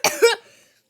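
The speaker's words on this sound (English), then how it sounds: "I don't know why I'm coughing." A person gives two quick, sharp coughs close to the microphone, the second slightly louder, fading into brief quiet.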